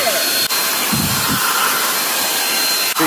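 Greenote GSC50 cordless vacuum cleaner sucking up sand, running close with a steady high-pitched whine and airy hiss, plus a couple of brief low rumbles from pickup.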